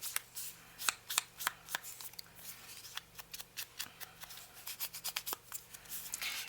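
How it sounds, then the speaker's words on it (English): An ink pad is dabbed along the page edges of a ring-bound journal, giving a close, irregular run of quick soft taps and light scuffs. "So I'm just going to ink this up on the edges here."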